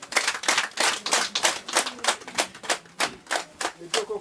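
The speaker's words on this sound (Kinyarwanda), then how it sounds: "Ndagira ngo bongere bakumira amashyi." Audience claps together in a steady, rhythmic beat at a Rwandan irembo gate ceremony, the sharp evenly spaced claps carrying on loudly from start to finish without pause.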